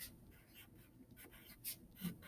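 A pencil scratches across paper in soft, faint strokes, a few brief scribbling bursts with short pauses, heard close and alone.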